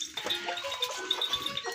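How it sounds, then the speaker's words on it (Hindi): Goats bleat at close range around a trough of water mixed with gram flour, with a few short calls standing out over a busy farmyard background and no clear speech. "बकरियों को बेसन वाला पानी दिया और टोटली जानवर सारे उठकर पानी पर आ गए हैं"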